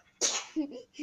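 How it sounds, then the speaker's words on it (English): A single sharp sneeze from a young girl bursts out of near silence, close and loud, followed by short vocal sounds afterward. "I sneezed in the video."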